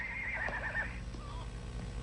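A cartoon horse gives a single shrill neigh lasting about a second, fairly close and clear over a faint background, with no speech.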